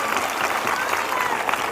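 Sustained crowd applause from a church congregation, thick continuous clapping with a faint voice mixed into the steady roar.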